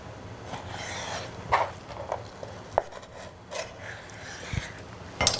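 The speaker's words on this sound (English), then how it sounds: "gently slide it, keeping your knife as flat as you can" A knife held flat glides along a raw salmon fillet during French kitchen prep, making soft, close scraping and rubbing strokes broken by a few light taps and knocks.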